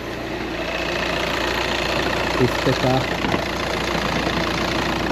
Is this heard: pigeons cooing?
no